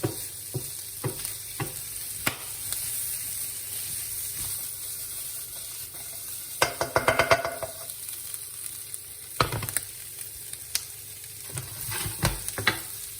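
Chopped onions for a bacon and mushroom risotto sizzle steadily in a pan with a soft continuous hiss. Occasional louder crackles and stirring scrapes punctuate the frying.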